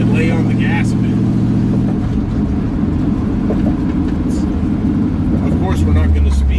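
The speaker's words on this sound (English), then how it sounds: "so I can turn the corner up here and lay on the gas a bit." A car engine drones steadily at low revs as it rolls quietly through a residential neighborhood, rising slightly toward the end, with someone talking over it.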